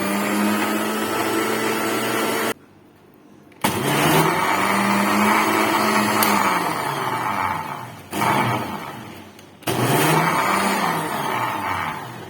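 An electric blender churns cream into homemade butter, its loud, steady motor whir running in bursts that briefly stop twice as it is switched off and on again.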